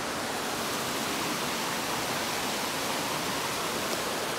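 Continuous broadband rushing of flowing water, even and steady throughout, with no voices.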